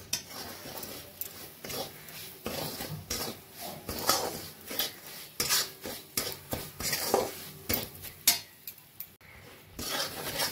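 Semolina roasts in ghee with two cardamom pods, stirred until lightly golden: close, repeated scraping strokes of a spoon against the pan with a soft dry sizzle beneath, no speech.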